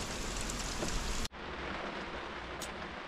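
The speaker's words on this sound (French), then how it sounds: "Il a plu. Et il pleut toujours encore." Dense, even hiss of steady rainfall on a camper van, cut off abruptly and resuming slightly softer, with a brief high tone near the end.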